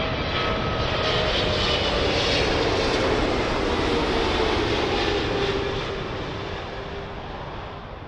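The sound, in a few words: Air Canada Boeing 777 from Vancouver arriving at Heathrow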